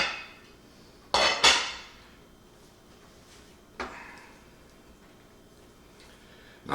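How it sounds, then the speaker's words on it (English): Pork pieces go into a crock pot with a few sharp clanks and clinks of ceramic and utensils, two close knocks followed by a softer single clatter, with quiet pauses in between. "I'm gonna put them in my crock pot."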